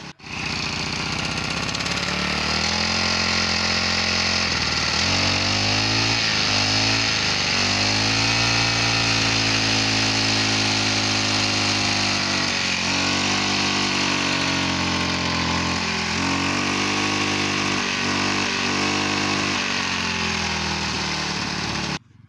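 A Honda GX35 four-stroke brush cutter engine runs steadily and loud, close up, its pitch rising and dipping with throttle yet never climbing to full revs, with no talk over it.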